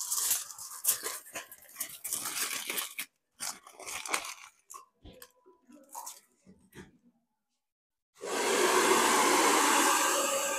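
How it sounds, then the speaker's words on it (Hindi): A hair dryer blasts on full heat over freshly washed, keratin-treated hair, a loud steady broadband rush that kicks in near the end, after scattered clicks and rustling handling sounds. "धुलने के बाद अब जो ड्रायर हो रहा है, अब वो फुल हीट पर हो रहा है"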